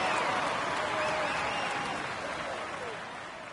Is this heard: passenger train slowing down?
no